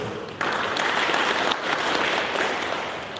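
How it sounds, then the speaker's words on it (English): Audience applause fills a panel discussion on politics and elections, starting abruptly and holding as steady, dense clapping for about three seconds with no talk over it. "She will all welcome me with an applause."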